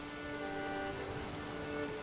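Atmospheric rain in the medieval city-building game Manor Lords falls as a steady, soft patter on surfaces, with a faint tonal hum beneath and no voices.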